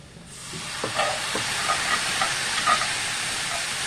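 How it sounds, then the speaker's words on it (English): Chicken broth poured into a hot pan sets off a loud, broad steam hiss and sizzle that swells quickly and keeps going, with faint clinks of stirring. "And be careful when you stir because the steam comes up."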